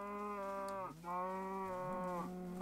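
Cows in a video game give one long, clear moo, a drawn-out lowing call that breaks briefly and resumes, loud and close with no talk over it.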